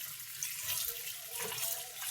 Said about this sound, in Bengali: এই যে আমার পাস্তা সিদ্ধ হয়ে গেছে, আমি এখন ধুয়ে নেব পরিষ্কার করে।